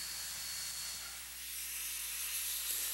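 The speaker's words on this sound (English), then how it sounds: "many mornings find more than three locos simmering around the engine house" A simmering steam locomotive at an engine house on a heritage narrow-gauge railroad gives off a continuous broad hiss of escaping steam, steady and fairly close, with no voices.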